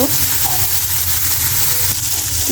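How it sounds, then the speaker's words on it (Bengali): Shrimp fry in hot oil with a loud, unbroken hiss and crackle that stays steady throughout. "তো তেলটা গরম হয়ে গেছে এখন চিংড়ি মাছ দিয়ে দিব সবগুলা চিংড়ি মাছ দিয়ে নিচ্ছি ভালো করে ভেজে নিব"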